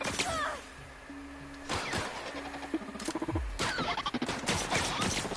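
Gunfire in The Outer Worlds, with sharp close shots and rapid bursts hitting amid clanks and impacts, broken by brief pauses, then a dense volley near the end.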